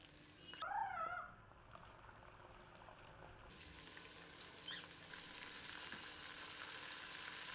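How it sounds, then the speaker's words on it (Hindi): Mutton pieces frying in rum over high heat give a steady, close sizzle that swells after an early burst of clatter, with no one speaking. "दो मिनट तेज आंच पर मटन को रम में भूनते हैं।"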